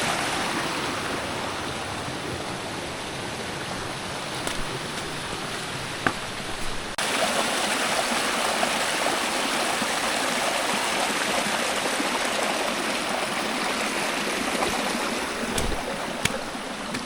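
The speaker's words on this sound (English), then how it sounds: "Here's a glorious bridge, river crossing." A river rushes beneath a bridge at a mountain trail crossing near Lonesome Lake on a windy day, a loud continuous broadband roar of flowing water with a slight change in texture partway through and no talking.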